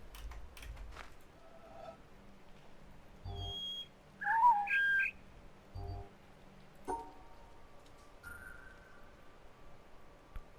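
A few short whistled chirps and pitch glides from a puzzle in The Witness, sparse and moderately faint against a quiet backdrop with occasional soft clicks and thumps.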